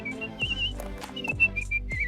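High-pitched whistled notes in short trilling phrases, a high C trilled with the lips, over a low rhythmic musical backing, from The Simpsons.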